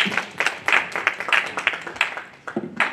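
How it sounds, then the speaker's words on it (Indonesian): Church congregation clapping for the music team during a Sunday service, a fairly close, uneven burst of individual claps with distinct sharp hits. "Boleh kasih tepuk tangan dulu."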